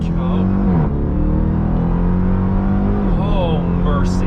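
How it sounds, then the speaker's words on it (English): A 180-mph Dodge Durango SRT Hellcat SUV launches hard on launch control, its engine a loud, close, sustained roar whose pitch climbs, dips briefly at a gear change and climbs again. "Full brake left foot, apply full throttle, let go,"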